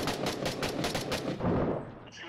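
Automatic gunfire in the video game Six Days in Fallujah, a rapid rattling burst of rounds that fills most of the moment, fairly loud and close, with a brief voice murmuring underneath.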